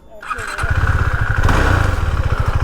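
A 2021 KTM Duke 390 BS6 motorcycle engine starts up and settles into a loud, close, rapidly pulsing idle with a throaty single-cylinder thump, a voice speaking briefly at the start.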